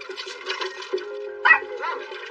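Dogs at a house making a few short barks and yips, fairly close, mixed with whining tones and some background noise.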